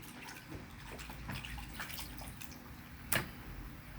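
A snapper fish head is rinsed under running water outdoors, a steady soft splashing flow with a few drips and a brief louder splash near the end, fairly quiet and close.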